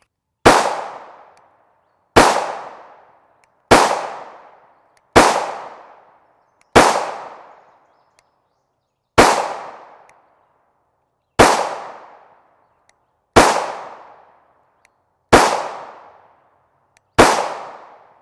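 Ten sharp, loud 5.7x28mm pistol shots come from a Palmetto State Armory pistol with a 5.2-inch barrel, firing Hornady Critical Defense 40gr FTX rounds. The shots are spaced unevenly, each followed by a short decaying echo, with no talk.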